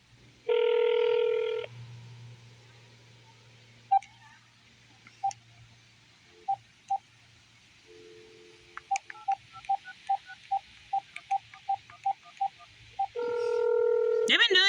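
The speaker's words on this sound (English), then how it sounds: "Just have phone ring and ring and ring and ring." A telephone call to the City of Vineland Police Department: DTMF keypad tones beep in a quick run of about a dozen digits, framed by loud ringback or signal bursts at the start and end, with a low hum underneath.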